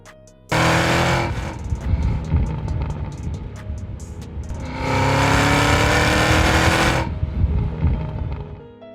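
A 668 hp supercharged 2025 Cadillac CT5-V Blackwing engine roars loudly in two long sustained bursts, revving hard with a brief dip between them, close and aggressive.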